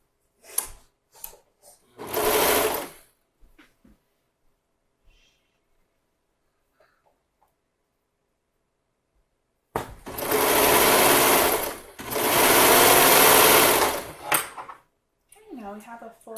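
A serger sewing machine stitches the seams of swim bottoms in two bursts, one short and one longer and steadier, with quiet gaps and small handling clicks between them.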